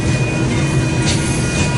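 A freight train of lowered covered hopper cars rolls past close by in Fremont, Nebraska, a loud, steady rumble of wheels and cars with faint rail squeal.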